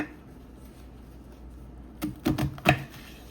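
A knife chops a lime on a kitchen cutting board: four quick, sharp knocks close together near the end, after a quiet stretch of room noise.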